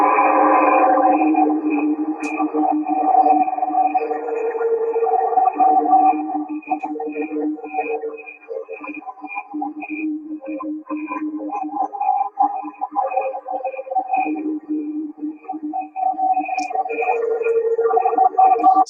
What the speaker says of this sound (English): This is the sound of a cricket slowed down.